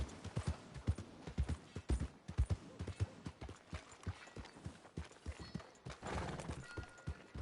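Horse hooves clip-clop in Red Dead Redemption 2, a steady rhythmic trot of sharp, close hoofbeats carrying on throughout, with a brief rougher patch near the end.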